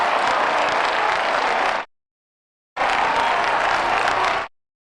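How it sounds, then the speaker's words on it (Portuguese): Canned applause sound effect played back twice through the Voicemeeter tape recorder software, each burst a dense, loud crowd clap of about two seconds cutting off abruptly into silence. "o último sonzinho que eu executei foi o aplauso"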